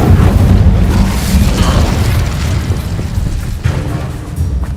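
Incendio fire spell cast in a video game: loud, close whooshing fire bursts and booms amid busy combat sounds, with a rumbling low end throughout.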